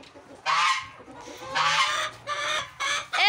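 Backyard hens and an old rooster in a home chicken coop make loud, drawn-out squawking calls in several separate bursts, close by with short pauses between them and no speech.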